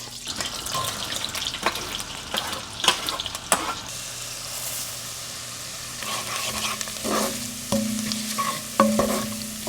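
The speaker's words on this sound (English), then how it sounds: "get my onions in there and start sauteing them" Onions sauteing in a blend of butter and oil for tomato soup: soft close sizzle with intermittent stirring scrapes and clinks, no talking.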